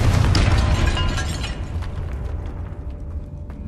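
A Confringo blast spell in Hogwarts Legacy bursts with a loud deep boom at the start, then crumbling debris and rumble fade away over a few seconds.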